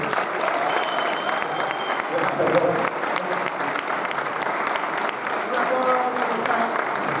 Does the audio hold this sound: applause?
yes